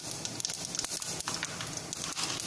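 Mustard seeds, pepper, fenugreek and urad dal splutter in hot oil while tempering for a radish kolambu, a faint, dense crackling and popping heard close by without pause.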